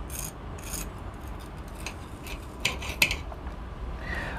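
A knife and fork cut through a crispy breaded Valess vegetarian schnitzel with Gouda, giving faint crackling crunches and soft scraping scrapes, with a couple of sharper clinks near the end.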